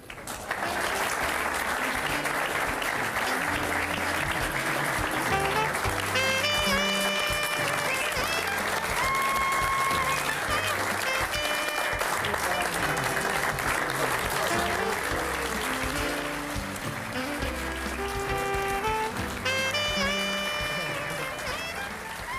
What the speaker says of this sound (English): Ladies and gentlemen, a round of applause for Larry and Geraldine